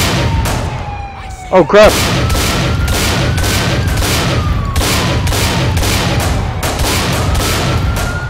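Rapid gunfire in the police-mod patrol of GTA IV LCPDFR, a dense run of loud, evenly spaced shots under siren wails, with a man's brief exclamation near the start.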